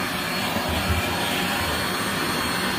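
A Rainbow SRX vacuum cleaner runs with an attachment fitted, giving a loud, steady broadband whoosh and motor roar that holds constant throughout with no speech.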